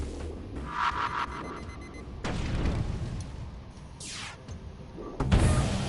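Firebomb and ion blast weapons fire in the spaceship game FTL: Faster Than Light, with a Rock ship, as synthetic booms and a sweeping zap over a droning game soundtrack.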